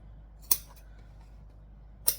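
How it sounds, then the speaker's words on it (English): Two crisp snips from vinyl scissors cutting angled notches into the stitched side seams of fabric, close and isolated, with a short pause between them over a quiet room. "with our vinyl scissors, we're just going to snip on an angle the sides we've already stitched"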